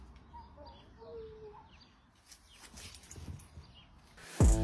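Backyard chickens give soft, scattered clucks and short calls, moderately near, as a curious golden retriever approaches them; some shuffling and a sudden loud thump at the end.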